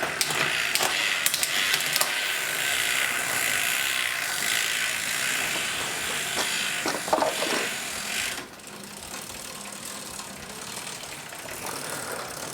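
A bicycle chain runs steadily over the rear gears in second gear, giving a continuous close mechanical ticking and whirring that softens slightly toward the end.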